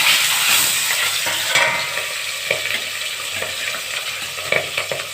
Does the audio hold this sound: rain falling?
no